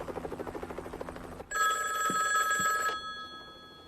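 A telephone bell rings loudly in a tense drama standoff, a sustained electric ring lasting about a second and a half, following a rapid rattling tone.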